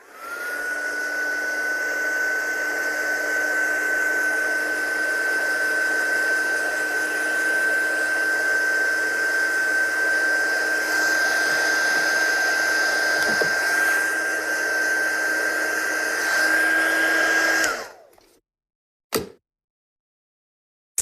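A heat tool blows steadily over a vellum card craft, its high fan whine and airy rush holding close and even for about eighteen seconds before clicking off, followed by a couple of small knocks.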